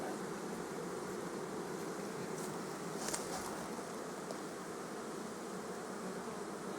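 Honeybees drone in a dense, continuous buzz at an opened hive, a loud steady swarm sound with brief closer passes and no talking.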